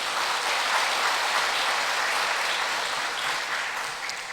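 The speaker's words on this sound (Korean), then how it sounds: "모두 박수로 환영하며 축복하겠습니다." A church congregation at a Korean Sunday worship service claps together to welcome newly registered members, a full, steady round of applause lasting several seconds and easing slightly at the end.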